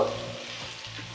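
Cauliflower and potato fry in spices in a hot pan, giving a short, close sizzle with stirring scrapes.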